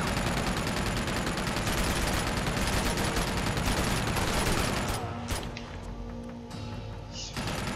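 Sustained automatic gunfire from a firefight in the video game Uncharted 2, dense and loud, rattling continuously for about five seconds before dropping to scattered shots and thuds.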